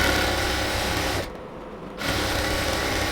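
A sewing machine runs a double seam around a pillow cover, a loud continuous whirring that stops briefly for under a second and then resumes at the same steady pace.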